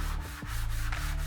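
Metal sole of a hand plane being rubbed on sandpaper, a close, continuous gritty scrub with quick back-and-forth strokes and a low motor hum underneath.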